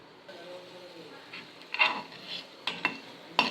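Cashew nuts roasting in a pan, with a few sharp scraping and clinking strokes of a spoon against the metal over a faint background, sparse and close, spaced irregularly.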